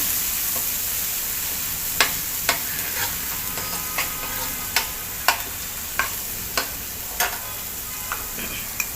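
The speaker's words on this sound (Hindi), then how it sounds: "1 टेबल स्पून अदरक लहसुन का पेस्ट डाल के इसको अच्छे से भूनेंगे" Ginger garlic paste sizzles steadily in a hot pan while a utensil scrapes and taps it about a dozen times at irregular intervals.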